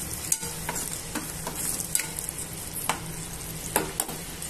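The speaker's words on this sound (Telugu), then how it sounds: "అల్లం వెల్లుల్లి పేస్ట్ వేసి బాగా కలయబెట్టాలి." Ginger garlic paste frying with green chillies in a pan for a mushroom tomato masala curry, a steady close sizzle broken by the repeated scrape and tap of a spoon stirring, with no talking.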